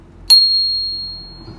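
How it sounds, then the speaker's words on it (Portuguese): A bicycle bell on a BMX gives a single bright ring, loud and close, that fades slowly over about a second. "tem campainha"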